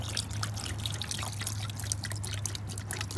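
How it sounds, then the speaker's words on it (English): Bleach pours steadily into a bucket with a continuous splashing trickle, close and moderately loud, with no voices. "I'm gonna pour the bleach in here"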